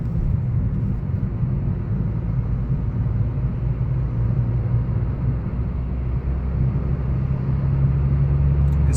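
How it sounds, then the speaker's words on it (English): A Suzuki car with hybrid torque assist accelerates past 2000 RPM. The engine gives a steady, loud, low rumble that holds without a break, and its hum rises slightly toward the end. "we are accelerating within 8 seconds more than 2000 RPM"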